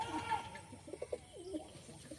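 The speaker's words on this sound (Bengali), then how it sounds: "এই যে একটা পায়রা, কালাঙ্কা পায়রা, তাই তো?" An old pigeon of a long-established breed coos softly at close range, giving a few low throaty notes in quick succession in an otherwise quiet room.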